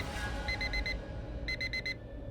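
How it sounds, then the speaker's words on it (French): An alarm clock rings in two short bursts of rapid, bright electronic beeps, four beeps in each burst, heard indoors over a low background rumble with no one talking. "L'alarme s'est arrêtée."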